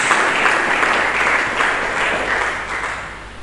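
Sustained applause from a congregation in a church service, many hands clapping at once in a thick, even roar that gradually tapers off.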